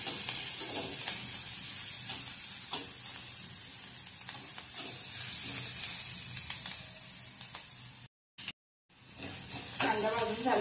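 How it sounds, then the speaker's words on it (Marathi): Chopped onion and crushed garlic frying in oil: a steady, close sizzle with occasional stirring scrapes. It cuts out briefly near the end and then resumes. "कांदा लसूण भाजून घेऊया।"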